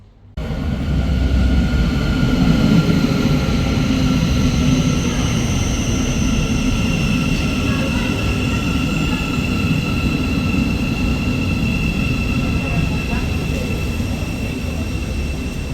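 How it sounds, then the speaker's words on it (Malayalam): A train heading to Gatwick in London, heard from inside the carriage: a steady, loud low rumble of wheels and running gear with a faint high whine, continuous and unbroken throughout. "നമ്മുടെ ട്രെയിൻ അങ്ങനെ പോയിക്കൊണ്ടിരിക്കുകയാണ്"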